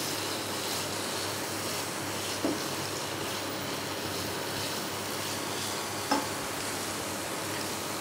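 Mughlai paratha filling with salt is stirred in a hot pan, a soft, even sizzle running throughout, broken by two faint ticks from the utensil.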